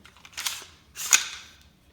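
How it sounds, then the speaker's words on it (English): A light dry-fire click from an AR-15 fitted with a JP trigger, heard as two soft, sharp clicks close to the microphone with quiet in between. "and then you can feel it and then click"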